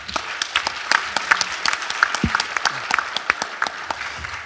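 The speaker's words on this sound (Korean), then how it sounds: "우리 부총리님께 감사의 박수를 드리고 시작하겠습니다" Audience applause for the deputy prime minister at a university presidents' assembly, a lively mix of distinct sharp claps over a steady clapping bed, close and fairly loud throughout.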